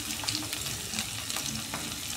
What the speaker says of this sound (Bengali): দিয়ে একটু ভেজে নিই, তারপরে মশলাগুলো দেবো